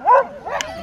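Sled dogs at the start line of a British Championships race, giving a close, loud bark followed by a second, softer one in under a second.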